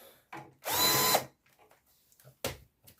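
A power screwdriver with a bit drives screws while furniture is taken apart during assembly of an observation tower, a half-second whirring burst followed by short clicks, handling knocks and a brief second spin.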